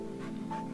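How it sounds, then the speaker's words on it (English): A small dog in the video game Tiny Bunny eats bread and bologna, with soft panting and snuffling over a steady tonal hum during one short, quiet moment. "sipped away the bread with her nose and started eating the bologna"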